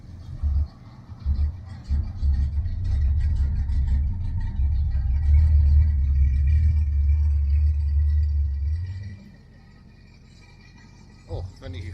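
A 1968 Charger at a classic car and hot rod festival in Kumeu, New Zealand, gives a loud, steady low engine rumble for several seconds before it drops away, leaving quieter outdoor background.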